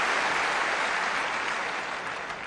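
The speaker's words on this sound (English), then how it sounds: "Listen to the crowd." A Wimbledon tennis crowd applauds steadily after a point, dense clapping that fills the whole stretch at a moderate distance, with no voices standing out.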